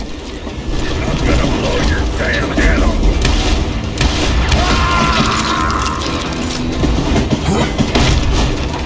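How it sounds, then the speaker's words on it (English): A train in the Western video game Call of Juarez: Gunslinger rumbles loudly along the tracks with a continuous rattling, clattering roar and a brief metallic squeal midway, steady and close throughout. "that train was flying down those tracks like a bat out of hell"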